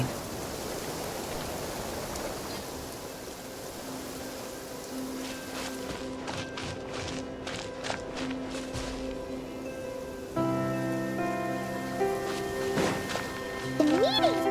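Steady rain falls in a video game, a constant soft hiss that runs throughout, with footsteps and tonal game sounds layered over it near the end.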